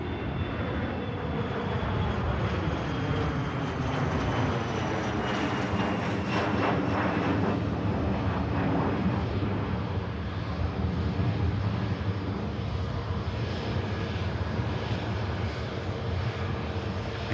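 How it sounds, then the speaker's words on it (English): A 25-year-old Embraer jet at Manchester Airport, a continuous loud engine roar with a high whine, close by and steady throughout with no voices. "Here goes the Embraer"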